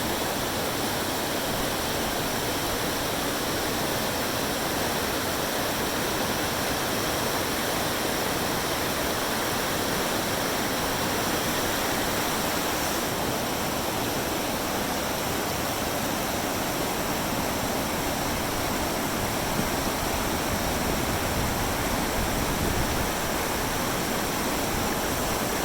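Outdoor ambience at Mount Rainier National Park, a steady, loud broadband rush like falling or running water that holds unchanged for the whole stretch, with no voices.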